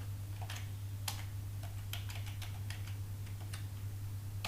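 Keystrokes on a computer keyboard entering C code, irregular clicks and taps in scattered bursts over a steady low electrical hum, with no talking.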